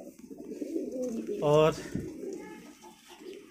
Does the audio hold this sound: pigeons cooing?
yes